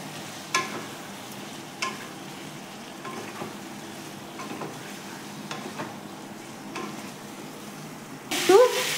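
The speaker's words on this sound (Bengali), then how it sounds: "এবারে যে আলুগুলো ভেজে রেখেছি এগুলো এই মশলার ভেতর দিয়ে দিলাম, দিয়ে মশলার সাথে ভালো করে আলুগুলো মিশিয়ে নেব।" Fried potatoes being stirred into spice masala frying in a pan for aloo dum, a steady low sizzle with occasional soft scraping taps, then a louder burst near the end.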